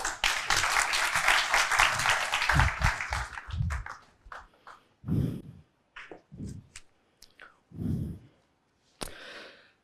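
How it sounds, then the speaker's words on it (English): An audience at a talk by a civil services topper bursts into clapping that fades after a few seconds, followed by scattered handling and breathy noises in a quieter room. "let's have a huge round of applause for sir"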